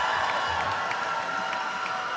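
A crowd cheering steadily at the FIRST in Michigan State Championship robotics playoffs, a dense, continuous roar of many voices with scattered whoops and some clapping, loud and sustained for the whole two seconds.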